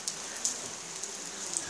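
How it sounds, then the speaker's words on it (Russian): A heavy downpour with rising wind falls on a forest track by a bridge, heard as a faint, steady hiss broken by occasional sharper drop impacts, with no speech. "Ветер поднялся, сейчас такой ливень."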